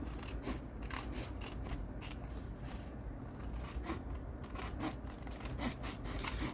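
Scissors trim paper for a journal page in a quiet room, making a series of soft, close snips and rustles in an uneven rhythm.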